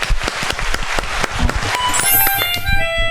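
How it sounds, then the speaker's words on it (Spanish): A small group claps for Firu at a relaxed theatre chat show, dense overlapping hand claps rising steadily near the microphone, with a bright tone entering toward the end. "Un aplauso para Firu."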